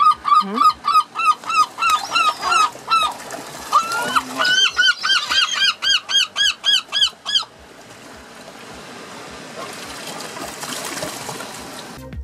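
Gulls call repeatedly in a fast, rhythmic series of loud, honking cries nearby, aboard a fishing boat near the Isles of Scilly, then fade out leaving a soft watery rushing background.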